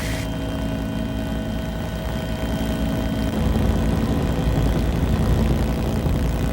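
A loud Army Sky Crane helicopter roars steadily, its engine and rotor noise swelling and thickening midway as it powers up to lift off.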